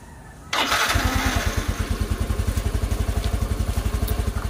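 A motorcycle engine starts with a sudden loud catch after a brief quiet moment, then settles into a steady, quiet-sounding idle with a fast, even thumping rhythm, close by and with no talk over it.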